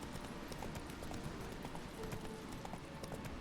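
Roach, a horse in The Witcher 3, trots with steady clip-clop hoofbeats over continuous game ambience, with an occasional faint whinny and no talk.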